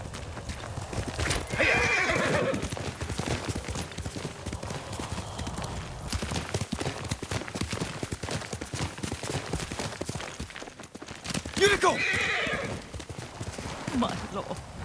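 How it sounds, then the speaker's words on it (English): In Ghost of Tsushima, Yuriko's horse clops along with steady hoofbeats, whinnying loudly near the start and again toward the end, with other game sounds underneath. "Yuriko's horse."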